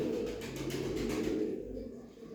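Pigeons cooing steadily close by, offered at a Turkish bird auction, a continuous low throaty warble that fades slightly at the end, with no talking over it.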